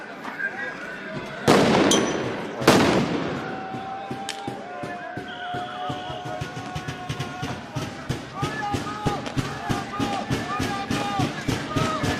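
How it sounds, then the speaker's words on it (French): Firecrackers going off during a yellow-vest protest in Bar-le-Duc, two loud sharp blasts early on followed by a long run of rapid crackling pops, with voices in the background. "À mon avis, on va avoir des pétards."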